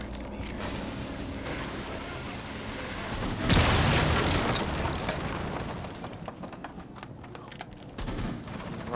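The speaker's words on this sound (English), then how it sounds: "Now we're going to thermite these walls" Loud burst of crackling, sizzling noise from a thermite breaching charge on walls in Rainbow Six Siege pro league play, surrounded by gunfire and clattering mechanical effects, with faint voices underneath.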